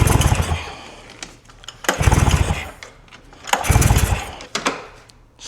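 Fire-damaged snowmobile engine cranking without firing, three bursts of rough churning with pauses between, close and loud, no voices.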